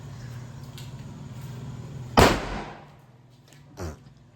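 A single sharp paper firecracker burst at close range that quickly decays, followed by a softer thud a moment later.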